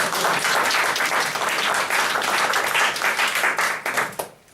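Sustained audience applause at a book publisher's 25th-anniversary authors' event, dense and steady clapping from a full room that thins out near the end.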